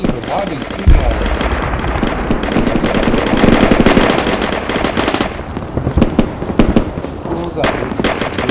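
Video game gunfire rattles in rapid automatic bursts and single shots through a building assault, close and loud. Players talk over the shooting.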